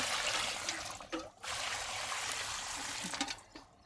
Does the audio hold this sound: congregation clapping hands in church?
no